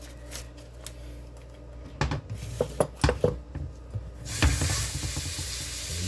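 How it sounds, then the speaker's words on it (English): Homemade hamburger patty sizzling in a pan, a rising hiss of frying fat mixed with clinks and scrapes of a utensil against the pan, close and without talk. "I just love the sizzle, man."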